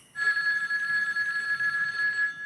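A telephone bell rings steadily and fairly loud, one sustained ring lasting about two seconds with no talking over it.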